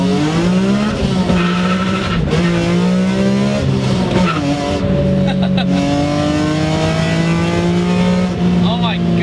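A BMW E46 M3 on a track screams toward 8000 rpm, its engine tone rising and dipping through gear changes, loud and close from inside the cabin, with occasional tire squeal.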